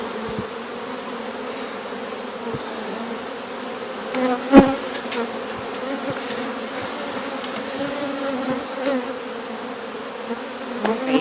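A dense swarm of honeybees hums continuously and close during a hive removal in Bartow, Florida, with one brief knock partway through and no talking.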